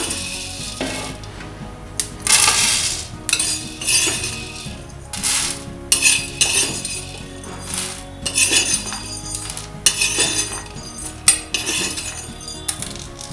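Dry-roasted black peppercorns are tipped and scraped from a pan onto a plate: a scattered series of clinks, taps and metallic scrapes at close range, with quiet gaps between.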